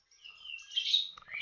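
Bright, warbling calls of a white-rumped shama with a few sharp chirps toward the end, close and clear with no talk.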